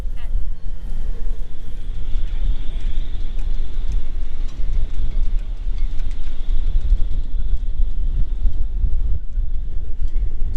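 Strong wind roars outdoors on a boat deck during fiberglass lamination work, a constant loud low buffeting that fills the whole stretch.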